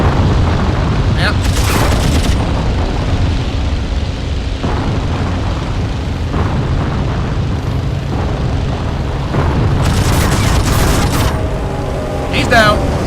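Explosion of a destroyed target in the WWI flight combat game Wings! Remastered Edition, deep continuous booming under droning aircraft engines, with louder bursts near the start and end while someone talks.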